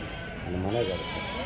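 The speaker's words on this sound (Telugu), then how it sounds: "గొర్రెలు పిల్లలు అన్నీ ఉన్నాయి దీంట్లో." Sheep and lambs bleat at the Saturday sheep market in Angallu, one clear wavering bleat rising over a dense crowd murmur and nearby livestock noise.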